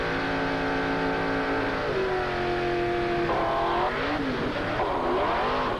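Paul Ebram's Ebram Espinosa drag car launches down the dragstrip at Valley International Dragway in 1985, a loud, continuous engine roar whose pitch climbs steadily, then wavers and surges as the car pulls away, with no talk over it.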